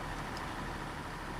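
A truck engine idles in the Snowrunner video game, a steady, even rumble with no other sounds.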